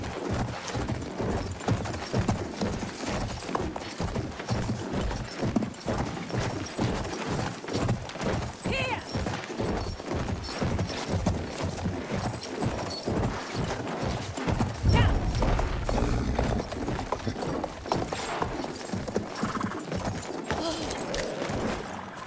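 Horses' hooves clip-clopping in the video game Battlefield 1, a continuous rapid rhythmic beat of many hoofbeats with an occasional whinny, loud and close throughout.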